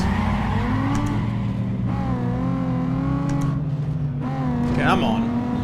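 A Nissan 350Z in a circuit race in a sim racing game, its engine droning steadily with rising pitch as it accelerates, plus brief tire squeal, loud and continuous.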